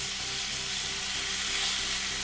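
Bacon frying in a pan over medium-high heat with no added fat gives a steady, loud, close sizzle that runs unbroken throughout, with a faint hum underneath.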